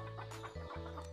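Young chickens about three to four months old cluck softly in an enclosed farm pen, with several brief calls scattered over a steady low mechanical hum.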